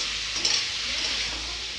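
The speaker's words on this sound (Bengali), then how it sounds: "এটাকে ভালো করে কষাতে হবে।" Spices with coriander powder, turmeric, salt and green chili are sautéed in a pan, producing a brief, steady, moderately loud sizzle with a soft scrape of stirring.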